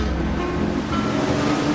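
Waves of the Southern Ocean near the southern tip of Chile make a continuous heavy roar, with wind buffeting the microphone the whole time.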